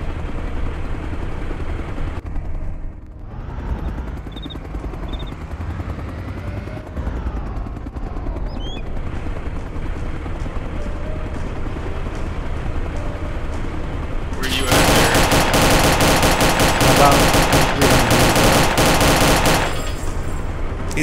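Gunfire in the video game Arma 2 DayZ Overpoch, a dense burst of rapid shots near the end over a constant loud engine or rotor drone, with players talking over the game sound.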